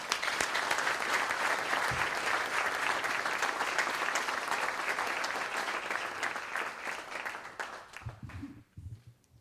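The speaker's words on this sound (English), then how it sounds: "Let's give Tim a round of applause." Sustained applause from an audience at a college coach hiring press conference, honoring the athletic director; dense steady clapping for about eight seconds before it thins and tapers off near the end.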